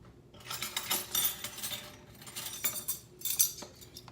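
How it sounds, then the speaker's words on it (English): A spoon mixing coconut flour into ingredients in a bowl makes scattered light clinks and scrapes against the bowl, in irregular bursts at close range, quiet overall. "we want to mix that in real well together"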